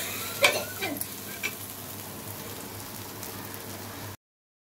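Chicken masala gravy is stirred in a pan with a continuous close sizzle and bubbling. A few scraping knocks come near the start, and the sound cuts off abruptly just before the end.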